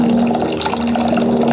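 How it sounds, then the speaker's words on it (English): Blackberry lemonade moonshine mash poured through a screen strainer into a big measuring cup, a steady close liquid pour and splash with a constant hum underneath, no talking. "I'm gonna just pour it in there and let it start straining out."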